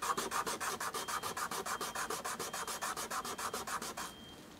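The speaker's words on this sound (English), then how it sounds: "where you put the patch, you should well to sand it, okay? And sand it different places." A patch on a cracked violin top is sanded in quick, even back-and-forth strokes, about twenty rasping passes close up, before the rubbing stops near the end.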